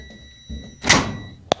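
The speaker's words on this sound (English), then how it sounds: "Now if I open the door," A machine door with a door switch, on equipment being tested for electrical continuity, opens with a soft thunk and a rising rush of noise, followed by a brief sharp click, close and fairly quiet.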